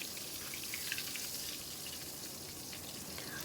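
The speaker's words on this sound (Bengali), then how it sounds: "আমার মাছ ভাজা হয়ে গেছে" Hilsa fish frying in hot oil, a steady dense sizzle with crackling spatter, close and continuous throughout with no talking.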